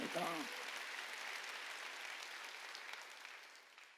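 A church congregation in a large room bursts into applause during a sermon after a brief shout, the clapping gradually thinning and fading over a few seconds.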